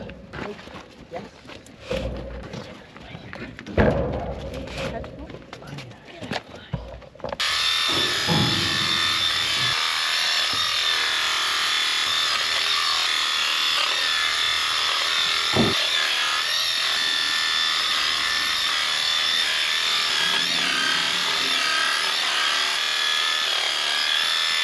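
Electric shears buzz steadily at close range while dagging the dirty backsides of Border sheep on a farm, a loud continuous whirr that starts after some early handling noises and knocks, with talk underneath.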